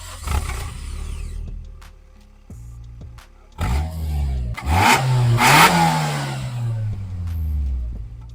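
A 1995 Toyota Sera's engine and exhaust heard from inside the car: a few short revs, then longer pulls where the engine note climbs and falls through the gears, loud and close, with exhaust drone behind it.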